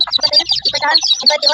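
Newly hatched native chicks and mother hens from a natural hatch, peeping and clucking continuously in a dense chorus of high, fast cheeps close by, with no talk.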